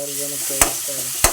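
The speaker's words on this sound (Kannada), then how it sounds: "ಕ್ಯಾಪ್ಸಿಕಮ್ ಸ್ವಲ್ಪ ಫ್ರೈ ಆದಮೇಲೆ" Ginger, garlic and capsicum fry in a pan under a loud, constant sizzle, with two sharp spatula strikes against the pan and a low steady hum underneath.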